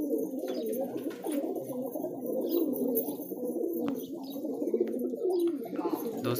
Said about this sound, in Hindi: कबूतर सारे अंदर आ गए घर में